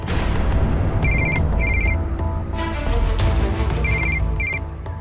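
A telephone rings in repeated short bursts of electronic trills over a loud, rumbling background, several rings spaced across the clip.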